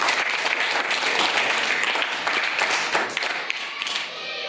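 Applause for a student at a primary school quiz, a dense burst of many hands clapping steadily for a few seconds, then tapering slightly toward the end.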